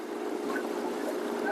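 Steady wash of boat engines and water on the channels of Pitchavaram mangrove forest, a continuous broad rumble with no clear breaks, fairly loud and close throughout.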